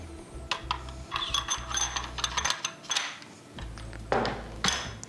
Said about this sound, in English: take my upper receiver, put it onto the gas block on that little hook, press it down into position